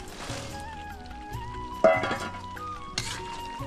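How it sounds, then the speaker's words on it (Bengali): A spoon scrapes and stirs fried tuna pieces into a thick pickle mixture in a pan, giving a few short, close scraping bursts over soft background music. "দিয়ে এরভাবে ভালো করে নেড়ে চেড়ে নেব"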